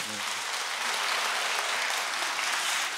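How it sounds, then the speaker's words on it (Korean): Audience applause at a church book concert, a steady dense wash of clapping heard at moderate distance, even in level from start to finish with no voices standing out. "박수 한번 주시죠"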